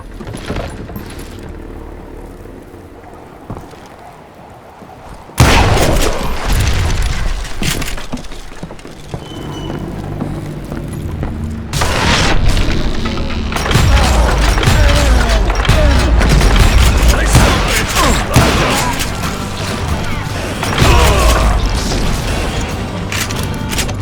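Dynamite charges blow up in the video game Call of Juarez: Gunslinger: a quiet stretch gives way to a sudden loud blast, then repeated heavy booms and crashing debris rumble on at close range.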